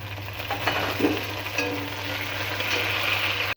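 Chopped tomato goes into a pan of frying onion, green chilli, cumin, dried red chilli and bay leaf, with a loud, continuous close-up sizzle and a soft clatter as it drops in.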